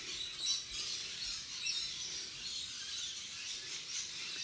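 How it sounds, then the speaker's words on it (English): Birds sing on a nice day outdoors on a rural farm property, with high, faint chirps and twitters scattered over a soft airy background, distant and without talking. "can you hear all the birds?"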